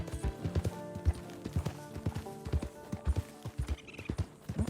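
Horse hooves clip-clopping at a steady riding gait in the video game Red Dead Redemption 2, with rhythmic thuds close by and a faint high tone near the end.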